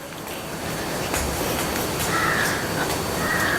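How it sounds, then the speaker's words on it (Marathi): Crows caw in short repeated calls among other birds at a villa, heard at a moderate distance over a steady outdoor hiss. "सगळीकडे फक्त पक्ष्यांचा आवाज येतोय मला."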